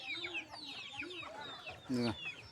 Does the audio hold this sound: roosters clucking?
yes